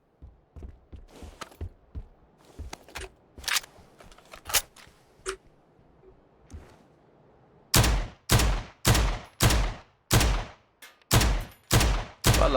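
Gunfire in the video game PUBG on the Sanhok map: scattered sharp shots with footsteps at first, then a run of loud, evenly spaced, heavy reports close by, with no talk.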